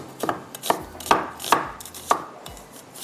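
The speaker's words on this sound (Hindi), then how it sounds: "यहाँ पर मुझे एक छोटी सी प्याज को बिल्कुल बारीक चॉप करते हैं" A knife finely chops a small onion on a board in about seven crisp, evenly spaced strikes, close and clear with no talking.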